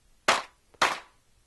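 A clap sample from the Beatmaker 2 drum machine app is triggered twice, giving two crisp, bright claps about half a second apart, each with a short decaying tail, clean and alone.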